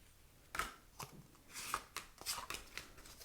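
Tarot cards are shuffled by hand in a series of soft, irregular papery riffles and slaps, quiet and close, with scattered taps between bursts.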